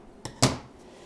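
Two quick snips of scissors cutting strands of Noro yarn, one light and then a sharper, louder cut, close up in a quiet room.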